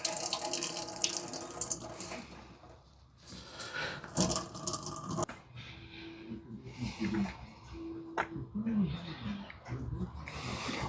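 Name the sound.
water draining from tzatziki yogurt in cheesecloth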